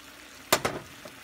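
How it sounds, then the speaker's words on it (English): Green peppers tipped into a hot frying pan, giving two quick bursts of sizzle and clatter close by, then a faint tail of frying, no speech. "Next, I'm gonna add my green peppers"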